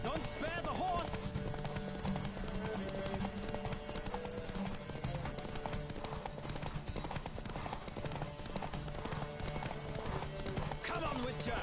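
Horse hooves pounding at full gallop during a horse race in The Witcher 3, a steady, driving clatter that continues throughout amid music and game ambience, with voices speaking over it.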